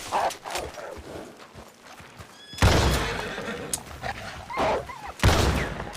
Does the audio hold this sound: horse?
yes